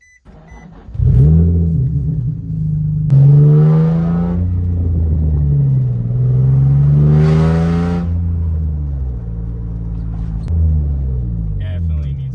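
A 2004 G35 sedan with a 6-speed manual and no muffler rumbles loudly from the cabin with the windows up, its droning engine note rising and falling with revs under a voice talking.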